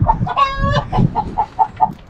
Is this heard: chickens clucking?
yes